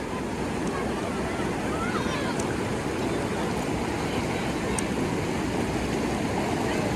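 Fast-flowing water rushes past near a forest, making a steady, dense roar with no pauses, with some wind buffeting the microphone.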